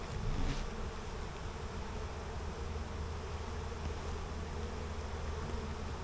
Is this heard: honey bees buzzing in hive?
yes